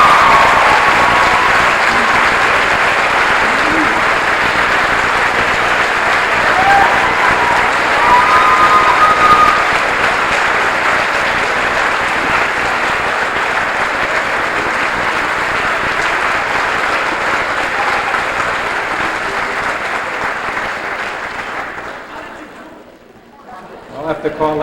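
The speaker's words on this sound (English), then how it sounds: "How about a big round of applause for Jamie Eng?" Sustained applause from an audience at a 1995 senior awards night for a student who never missed a school day, steady and dense for about twenty seconds before fading out.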